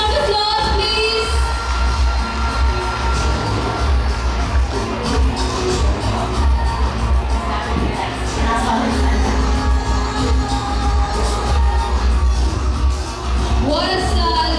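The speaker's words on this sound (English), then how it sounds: "Can we have a huge round of applause, please?" A college freshers' day crowd cheers, whoops and yells with applause in a loud, dense, continuous roar, with shouting voices and possible music underneath throughout.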